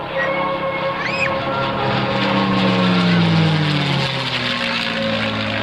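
A propeller aircraft engine drones loudly and steadily, its pitch shifting slightly as it flies past.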